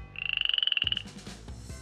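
A frog croak sound effect: one rapid, pulsing croak lasting about a second, followed by a few soft knocks, heard alone and fairly close.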